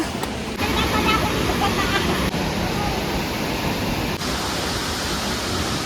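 Aw Asen Falls in Sigay, Ilocos Sur roars as a constant, loud, dense rush of falling water, close and unbroken throughout, with faint voices blended into the wash.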